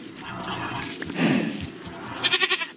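Goat bleating in a Minecraft-style video game: a short, wavering bleat near the end, loud and close, over a background of game ambience with no talk over it.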